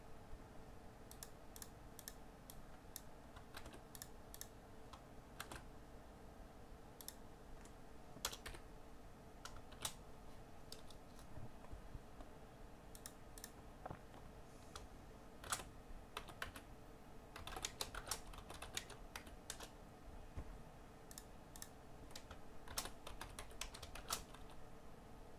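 Computer keyboard typing while a comment is entered in PLC programming software, with irregular bursts of quiet, close key clicks and short pauses between words over a faint background hum.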